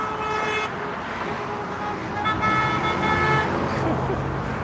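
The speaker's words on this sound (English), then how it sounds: "These people are driving the wrong way. That's why everybody's honking at them." Car horns honk repeatedly at drivers going the wrong way on Paradise Road in Las Vegas, several tones overlapping amid steady street traffic, fairly close and loud.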